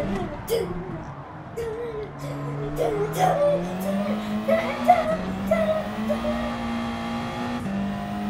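A Mazda3 Gr.4 race car driven in a video game: a loud, buzzing engine note climbs repeatedly, dropping at each gear change, with faint squeals along the way.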